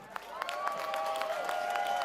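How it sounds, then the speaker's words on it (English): Outdoor crowd at a farmers' protest over inheritance tax in central London claps for a speaker, sparse scattered claps with a whistle-like tone running through, moderately loud and fairly near. "Come on, another round of applause for Gareth there."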